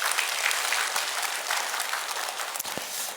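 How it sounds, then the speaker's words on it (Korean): Congregation applause at an early-morning church prayer service: a steady, dense wash of clapping from many hands, evenly sustained for the whole stretch with no voices on top. "서로 한번 주님 앞에 영광 돌리면서 우리 박수 한번 하시겠습니다"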